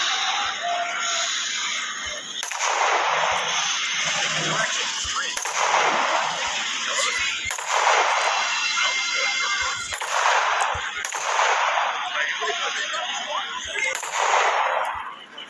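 Video game gunfire rings out as sharp, loud reports roughly every two to three seconds, each followed by a decaying echoing tail over a steady background hum.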